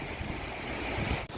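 River water rushes through a breach in a damaged check dam on the Machhu river near Wankaner. The roar is steady and broadband, buffeted by wind noise on the microphone, with no voices.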